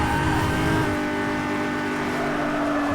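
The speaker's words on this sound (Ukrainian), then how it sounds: "А тут у нас Порше їде. Прискорюємось." A Porsche accelerates in the racing game Need for Speed: Hot Pursuit (2010), its engine a loud, steady, high-pitched drone held at speed for the whole stretch, with no pauses and no talking over it.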